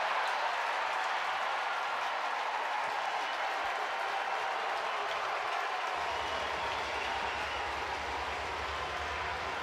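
A college baseball crowd at a Florida versus Georgia game cheers Georgia's first hit of the night, a broad sustained roar of voices and clapping that stays level, with a low hum entering partway through.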